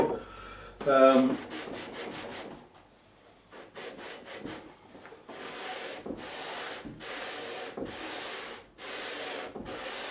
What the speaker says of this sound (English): So I might have to change the paper a few times just to get the whole fingerboard radiused properly.